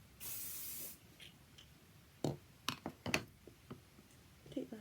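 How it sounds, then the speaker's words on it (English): A single close hiss of hairspray from an aerosol can, lasting under a second, covers freshly pinned curls, followed by faint clicks, taps and handling noises as the hair is worked. "Final spray all over."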